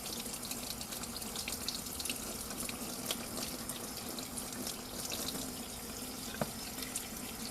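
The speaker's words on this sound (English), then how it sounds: "You're rinsing out the neutralizer" Low-pressure water nozzle rinsing neutralizer out of permed curly hair at a salon sink, a steady, even hiss and patter of running water close by, continuous throughout with no talking.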